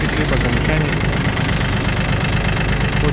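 A Yanmar F-200 Japanese mini tractor's engine runs steadily and loudly nearby, a constant throbbing drone with no change in pace throughout, with no voices over it.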